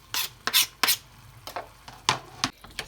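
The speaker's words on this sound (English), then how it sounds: "Stir the aubergine with the onion" Aubergine being stirred into softened onions in a cooking pan for a vegan aubergine curry: a series of short scraping, clattering strokes of a utensil against the pan, close and moderately loud, at an irregular rhythm.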